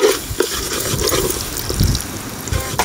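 Water being added to a cooking pot of Odisha-style fish curry with mustard, salt and turmeric, a short splashing, running pour that rises and falls over about three seconds, close and fairly loud with no talk.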